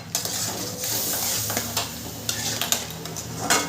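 Tomato and spice paste for dhokar dalna sizzle steadily in a pan as a spoon stirs it, with repeated clinks and scrapes over the continuous frying hiss and no voices.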